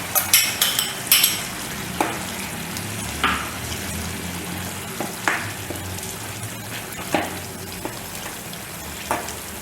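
Ground coconut paste being added and stirred into a mixed sprouts gravy in a pan, with a steady low sizzle and a few sharp spoon scrapes and clinks against the pan, close and alone with no talking.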